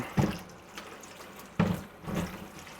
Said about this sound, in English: This water coming out of the faucet is so warm.